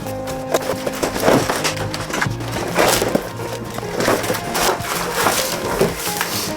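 A large cardboard shipping box holding an Okuma fishing rod is torn and pulled open, giving repeated close, crunchy ripping and scraping bursts with no talking.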